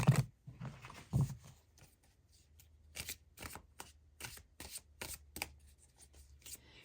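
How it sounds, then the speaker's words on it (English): A deck of Career and Life oracle cards being shuffled by hand, heard as a run of crisp riffling bursts with short pauses between them, close up and alone over a quiet background. "Let's get you a couple cards from Career and Life Oracle cards."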